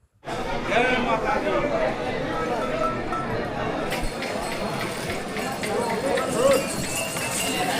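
Horses' hooves clip-clop steadily along the pilgrim path to Vaishno Devi near Katra, Jammu and Kashmir, close and continuous, with crowd chatter and voices running underneath throughout.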